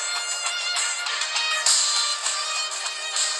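A Samsung A03 phone ringtone plays alone, a steady bright electronic melody with sustained tones that carries on without pause for a few seconds at moderate loudness.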